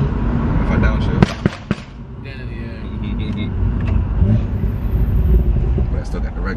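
Exhaust pops and bangs from a car on downshift, several sharp cracks near the start over a steady loud engine rumble, with talking throughout.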